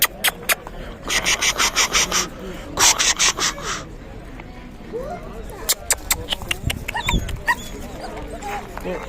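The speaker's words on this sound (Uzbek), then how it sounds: "qozoq alabaylarimiz 2 oylik erkak." Two-month-old Kazakh alabai puppies yip and whimper in quick bursts, with short high barks scattered throughout, close by against a busy dog market background.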